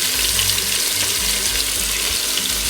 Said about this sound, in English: There's lots of flavour to be gained by browning your meatballs.